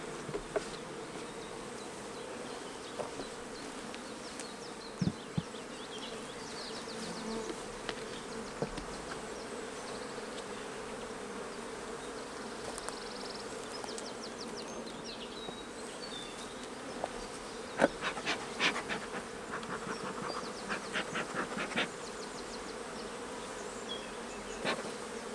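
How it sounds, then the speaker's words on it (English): Honey bees buzzing steadily in an opened hive during a hive split, a dense continuous drone close by with a few brief knocks and handling sounds. "So we've got plenty of bees here, so let's open them up and see what's happening inside."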